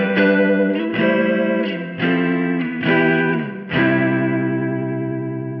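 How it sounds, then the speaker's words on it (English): A Keeley Verb O' Trem pedal's tremolo wobbles sustained electric guitar chords in a swirling, rotating-speaker pulse, loud and close, with a fresh strum roughly every second. "it almost sounds like a Leslie, like a rotating speaker."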